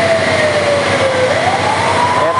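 A barangay fire truck siren wails loud and close at a public market fire in Biñan City, its pitch sweeping slowly down and back up over engine rumble, with no talk.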